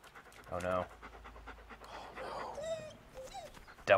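In the video game Deadly Premonition, a dog pants and whimpers in short breathy bursts, while people talk and react over it.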